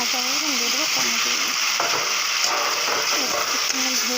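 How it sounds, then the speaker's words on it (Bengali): Potatoes frying in a pan with turmeric, a dense continuous sizzle with stirring scrapes and a faint tonal warble in the background, close and steady, no speech. "আমার আলুটা ভাজা হয়ে গেলে দিয়ে দেবো টমেটো।"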